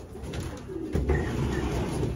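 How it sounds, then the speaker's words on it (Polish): Young pigeons coo softly and repeatedly at close range during vaccination, their low throaty calls rising and falling over a faint steady hum. "Nerwowe te gołębie."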